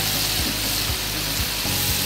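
Chicken skin coated in cornstarch frying in hot oil, giving a steady, dense sizzle with soft low bubbling pops throughout and no voices.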